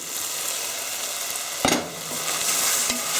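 Vegetables for a spicy stew being stirred in a hot pan, a steady close sizzle of frying with a brief louder scrape of the spoon partway through.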